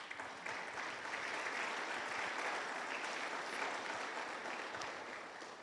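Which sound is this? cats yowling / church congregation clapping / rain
church congregation clapping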